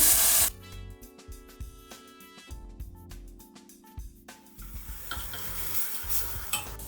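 Tomato-based sauce for stuffed peppers cooks in a lightly oiled pot with a splash of water, a loud hiss at first settling into steady sizzling with clinking stirs of a utensil against the pot.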